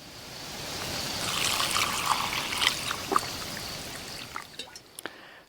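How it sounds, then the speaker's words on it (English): Water is poured from a stored outdoor container into a cooking pot, a steady trickling stream that swells, then thins to a few drips at the end, close and alone. "I'm going to fill up the pot."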